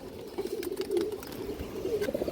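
Silver Beji pigeons make soft, steady cooing murmurs in a loft, a low continuous burble with slight swells and no voices over it.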